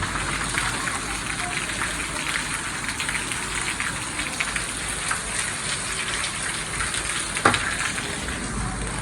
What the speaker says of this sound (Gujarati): ગામમાં વરસાદ ચાલુ જ છે.